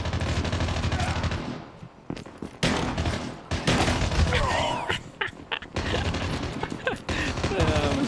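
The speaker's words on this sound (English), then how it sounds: "shotgun." Shotgun blasts in the Call of Duty Mobile video game, loud repeated booming shots in quick bursts, separated by brief gaps, with other gunfire around them.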